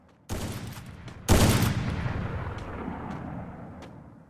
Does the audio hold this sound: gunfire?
yes